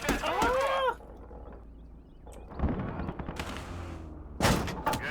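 Gunfire in the WWII strategy game Gates of Hell: Conquest, heard as a few sharp shots and bursts between stretches of battle noise, with a voice calling out at the start and near the end.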